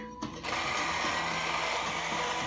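A screw is turned into a Squier Bronco bass, making a close, continuous grinding and ratcheting whir for a couple of seconds, with small squeaks along the way.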